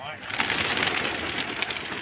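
Pigeons cooing and fluttering nearby at a pigeon market in Old Dhaka, with people talking and bargaining over them throughout.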